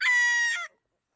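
A single short, bright call from a backyard chicken or rooster rings out close and clear, then cuts off into silence.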